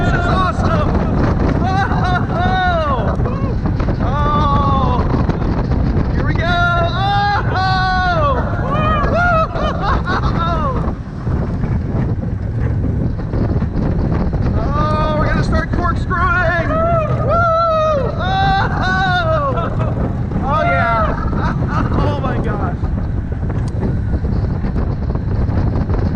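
Blue Hawk roller coaster at Six Flags Over Georgia rumbles and roars continuously with heavy wind buffeting as riders shout and cheer excitedly throughout.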